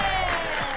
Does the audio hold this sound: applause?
yes